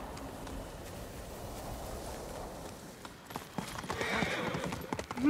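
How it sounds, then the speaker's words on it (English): Horse hooves clip-clopping at a gallop in the video game Ghost of Tsushima, a steady rapid beat that grows louder and busier toward the end, with a short whinny-like sound near the close. "But I have a new horse."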